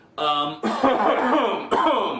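A voice produces a deliberate, exaggerated cough, a throaty hacking sound repeated in a couple of bursts, close and loud.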